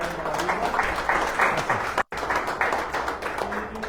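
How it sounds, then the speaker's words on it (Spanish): An audience at a talk on marine mammal biodiversity applauds a speaker with dense, sustained clapping that fills the whole moment, briefly cut by a short dropout midway. "damos un fuerte aplauso"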